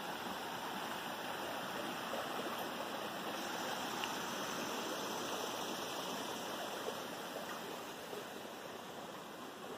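A creek flows with a steady broadband rush and gurgle, even and continuous, alone with no voices, at the site where Daniel Boone once passed near Cumberland Gap.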